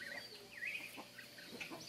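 A hen clucks in short, faint, repeated calls against a quiet outdoor background, with no talking.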